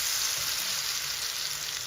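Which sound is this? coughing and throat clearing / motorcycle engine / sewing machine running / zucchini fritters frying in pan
zucchini fritters frying in pan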